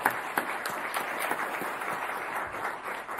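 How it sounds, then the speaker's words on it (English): Audience applause for a children's group called the Colusa Flamingos, a steady wash of many hands clapping for about three seconds with a few sharper claps near the start, moderately loud in a hall. "Let's give them a round of applause for that."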